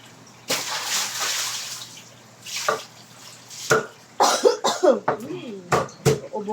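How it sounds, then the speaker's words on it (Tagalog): A person coughing several times in short bursts, close to the mic, with wet splashing or dripping in between and a voice talking toward the end. "Ubo pa rin."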